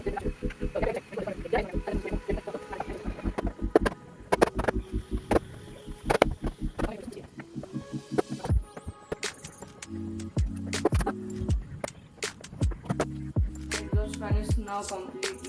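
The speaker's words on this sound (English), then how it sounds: "Now let me install the blades and everything." Clicks, clatters and plastic knocks as blades and parts are fitted onto a Crompton Ventilus 200 mm brown exhaust fan, in irregular bursts close by, with a few hollow resonant taps near the end.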